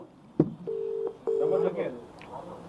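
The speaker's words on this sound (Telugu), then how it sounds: "ఆ నంబర్ నేను చేస్తాను." Telephone call tones, two steady beeps from a phone being dialed during a live call, each lasting under half a second, with a voice talking around them.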